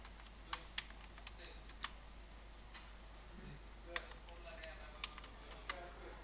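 Scattered keystrokes on a computer keyboard, faint and irregular clicks with a few louder taps, against quiet background hiss.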